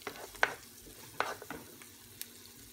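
Onion, garlic and fresh ginger sautéing in a pan for shrimp fajitas, giving a soft, steady sizzle with a few sharp scraping stirs of the spoon, fairly quiet and close, with no talking.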